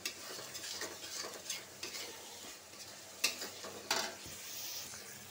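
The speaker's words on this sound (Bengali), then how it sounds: "এই চুলায় আমি মাছটা ভেজে নিব।" Fish frying in a thin wok-style pan on a home stove, a steady broadband sizzle with occasional stirring scrapes and two sharper clatters, fairly close and without talk.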